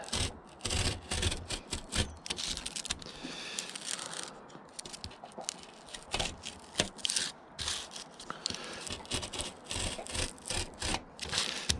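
A piece of wood being sawn out by hand to make a fishing lure base: rapid, uneven rasping strokes in irregular bursts, close and moderately loud, with brief pauses between runs.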